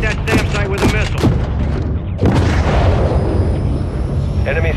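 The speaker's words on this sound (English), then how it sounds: "Hit that SAM site with a missile." Missile strike on a SAM site in Call of Duty: Modern Warfare 3, heavy booming blasts and rumbling impacts with sharp cracks of fire, loud and close, with voices talking over the barrage.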